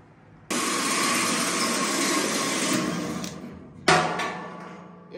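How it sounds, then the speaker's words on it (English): A drill with a bit bores a hole for a homemade smudge pot: a loud, steady grinding whine starts abruptly and runs for about three seconds, stops briefly, then kicks in again close up. "we're going to get the hole drilled with the bit that we have"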